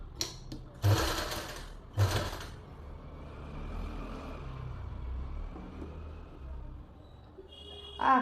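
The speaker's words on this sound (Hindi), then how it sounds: "अब यहाँ से हम सिलाई लगाना स्टार्ट करेंगे" A sewing machine stitches a pleated suit in two short loud bursts of rapid whirring close by, followed by quieter room noise and a faint final start.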